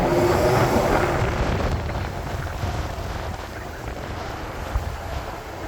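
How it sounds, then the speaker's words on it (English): Steady roaring wind buffets the microphone on a street in San Francisco's Tenderloin, a constant low rumble and hiss with no talking. "It's a nice windy day here in San Francisco."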